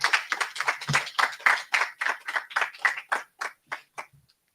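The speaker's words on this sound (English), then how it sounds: "let's give a round of applause to Ms. Sarah Karengi." Clapping at a graduation ceremony for an entrepreneurship programme, a short burst of sharp, distinct claps from a small group, close and rhythmic, thinning out and stopping after a few seconds.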